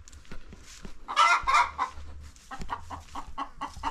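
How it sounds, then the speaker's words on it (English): A hen clucks loudly and insistently while laying eggs, a close, repeated series of squawking calls and shorter clucks rising and falling in bursts. "Oh man, I think this chicken is laying eggs. Let's see, because it has really made some noise here."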